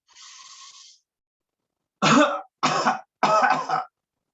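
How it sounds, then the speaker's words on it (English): A single throat clearing followed by three separate coughs, close and loud, during a seated chair yoga breathing exercise, with quiet pauses between them. "Breathe in and cough."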